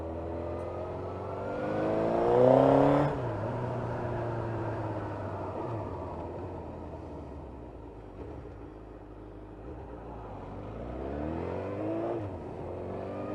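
A GSXR 1000 streetfighter motorcycle with the exhaust baffle fitted, its engine rising to a revving peak then settling into a steady cruising drone with shifts and gentle swells, heard from on the bike.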